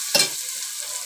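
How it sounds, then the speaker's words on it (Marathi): Onion frying in a pan for a Malvani-style meal, a short burst of sizzle and stirring at the start that quickly settles to a faint hiss. "कांदा भाजून घेते."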